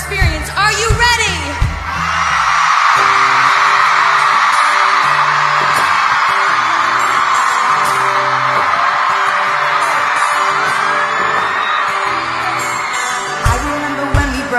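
A large crowd at a live concert lets out a loud, sustained roar of screaming that swells and holds for about ten seconds, with amplified music and a voice before and after.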